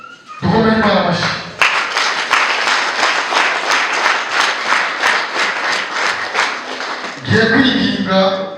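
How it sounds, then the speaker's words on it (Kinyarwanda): A church congregation at a baptism service claps for God in a loud, rhythmic, sustained round lasting several seconds, with a voice speaking just before and right after. "dukomere Imana amashyi."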